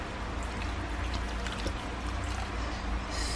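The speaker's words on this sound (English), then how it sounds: "I'm gonna add water" Water poured over soursop fruit pulp, a broad steady splashing pour running continuously and fairly loud, with no talking over it.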